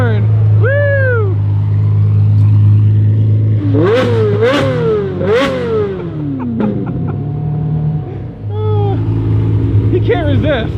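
A Ferrari Testarossa at an Italian motoring festival revs hard several times, its loud engine rising and falling in sharp bursts amid an idling rumble, with horn-like tones and people talking nearby.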